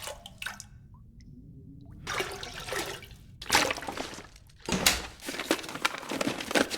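Toilet water being collected in The Long Dark, with short sloshing, trickling water sounds arriving in several separate bursts between quiet gaps, close and moderately loud.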